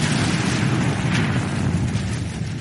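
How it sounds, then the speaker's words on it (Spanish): A volcanic hypereruption explosion effect: a dense, continuous low roaring rumble, loud and sustained without breaks, with no voices. "La explosión de aire también genera un sonido ensordecedor."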